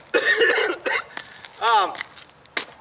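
Several harsh, chesty coughs close to the mic, a cluster at first and then a couple of scattered single coughs with breathing between.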